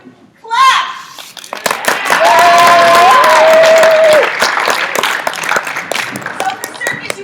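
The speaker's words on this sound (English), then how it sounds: "Do you know how to clap?" Children and adults in a circus show audience at Gould Academy break into loud applause and excited chatter, with crisp claps throughout and a whistle-like tone rising through the middle before the noise thins.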